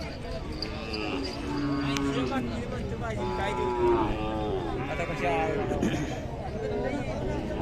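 Khillar cattle moo repeatedly at a crowded livestock market in Sangola, Solapur, several drawn-out lowing calls rising and falling amid general crowd noise and people talking.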